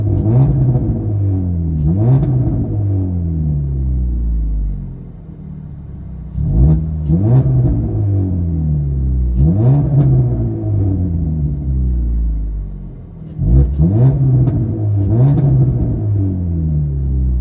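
Straight-piped 2015 Dodge Dart GT with a 2.4L four-cylinder, heard from inside the car: a loud, steady low exhaust rumble that swells in repeated revs and accelerations about every three to four seconds, with no talking.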